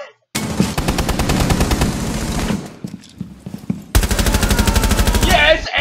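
Rapid automatic gunfire from a round of a video game shooter, loud close bursts of evenly spaced shots, pausing briefly mid-way and then resuming as another long burst.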